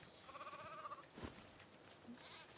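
A sheep bleating in the Lego Fortnite video game, one faint wavering bleat near the start followed by quiet game sounds and brief voices.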